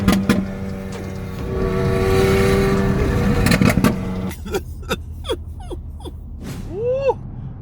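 A Dodge Hellcat roars and revs loudly as it drives away, the engine noise holding strong for about four seconds before dropping off and leaving a few quieter chirping sounds.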